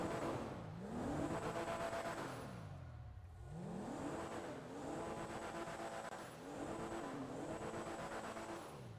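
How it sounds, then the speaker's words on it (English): Enus Cognoscenti Cabrio engine in GTA Online revving up and down in three repeated swells, rising and falling pitch with steady idle between, close and loud, no talk. "we're going to rev this thing up a bit"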